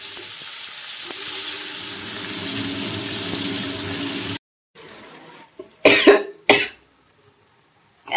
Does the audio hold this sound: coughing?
yes